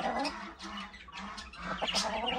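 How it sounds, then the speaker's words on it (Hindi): Aseel chickens, a hen and rooster, cluck and call close by, a few overlapping fowl vocalizations in quick succession with no talking. "मैं अपने असील मुर्गी और मुर्गे की तरफ"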